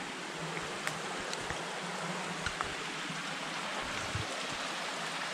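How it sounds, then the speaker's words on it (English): A waterfall rushes faintly in the distance along the Foothills Trail in South Carolina, a steady soft broadband wash with a few small knocks and no voices. "A waterfall back there."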